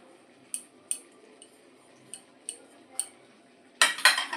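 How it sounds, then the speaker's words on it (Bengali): Dry spices (red chilli powder, turmeric, black cumin, salt) being mixed into gram flour in a bowl: a handful of light, spaced scraping clinks of a utensil, then a denser burst of scraping near the end, with no talk. "সমস্ত শুকনো উপকরণ আগে মিশিয়ে নিচ্ছি"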